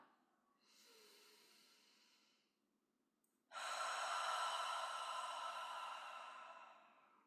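A deep breath during a lymph drainage exercise: a softer, shorter breath is followed by a long, loud, close inhalation drawn steadily through the nose and mouth, heard alone without talk.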